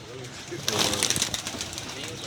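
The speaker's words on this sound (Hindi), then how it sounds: "नीचे से सारे जोड़ों वाले कबूतर ला के छोड़े हुए हैं अपने ऊपर।" Paired pigeons released overhead in a rooftop loft coo softly amid a busy wash of chatter and background noise, with a brief flurry of bird sounds near the middle.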